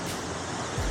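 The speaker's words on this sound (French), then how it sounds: "on est bien arrivé à la cascade" A waterfall's rushing water fills the air as a dense, loud, continuous roar close by, with no talk over it.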